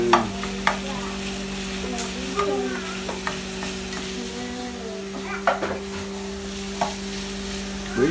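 Sausage sizzles steadily in a frying pan at home, with a scattering of scrapes and clinks as it is stirred, plus a constant low hum underneath.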